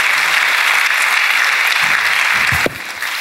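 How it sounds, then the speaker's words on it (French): A crowd applauds loudly and steadily after a pastor's speech at a film release event, a thick continuous wash of clapping that drops off abruptly near the end, with a few low thumps underneath. "applaudissements pour ce beau discours du général, le pasteur Daniel Ebondo"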